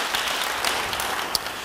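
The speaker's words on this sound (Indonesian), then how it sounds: "Beri tepuk tangan bagi dia." A church congregation claps during an Indonesian-language sermon, a short burst of dense, even applause throughout.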